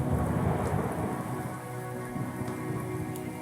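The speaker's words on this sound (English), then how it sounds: "Rain." Steady rain falls hard on surfaces, a dense hiss with scattered drops, while low rumbling thunder rolls underneath throughout; no one speaks.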